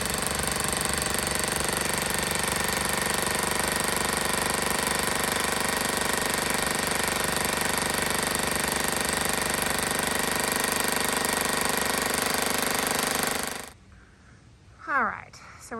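A loud, continuous drilling roar as a masonry bit bores into masonry runs without a break for most of the clip, then cuts off abruptly, followed by faint clattering.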